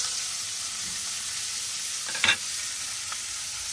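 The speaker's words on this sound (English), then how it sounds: "What's that frying in? Bacon grease." Food sizzles steadily in leftover bacon grease while truck camping, with a continuous bright crackle and one brief louder spatter or stir partway through; no one speaks.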